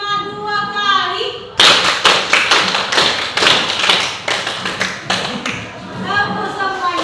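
A group does a counted clapping routine during a teachers' coaching session, with sharp claps close by in quick rhythmic bursts for several seconds. Someone speaks just before and after the clapping.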